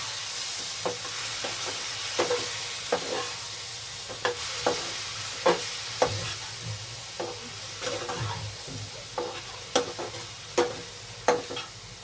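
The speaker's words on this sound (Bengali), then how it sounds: "সামান্য একটু জল দিয়ে মশলাটাকে আলুর সাথে ভালো করে কষে নেব" Spice paste frying with potatoes in a pan under a low steady sizzle, punctuated by repeated sharp scrapes and knocks of a spoon stirring at irregular intervals, close by and with no talking.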